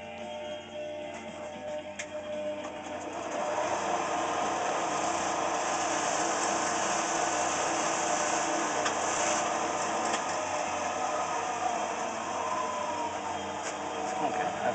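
A wooden string nut for a cigar box guitar is cut, giving a steady, continuous machine-like whirring hum that grows louder after a few seconds and holds evenly, close by with no talk.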